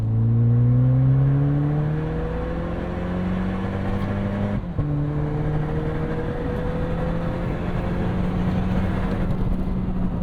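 A 2025 Toyota 4Runner TRD Pro turbo hybrid engine revs steadily under load in S mode, its droning pitch climbing, briefly dipping at a gear change, then rising again, loud and close.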